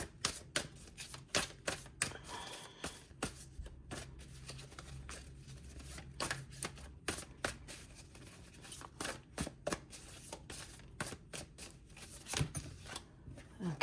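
Playing cards are shuffled and cut at close range, giving soft, quiet repeated riffles and sharp snaps, with faint murmured speech in the gaps.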